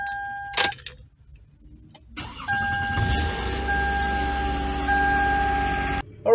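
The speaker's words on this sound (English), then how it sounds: "have to turn on the engine and then let the transmission reach normal temperature" A Toyota Sienna minivan engine cranks and starts after a short key chime, then settles into a steady idle hum.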